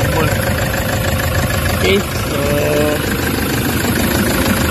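A Toyota HiAce van engine with a check-engine fault and low power idles roughly, a steady low rumble with shaking vibration, while someone talks over it.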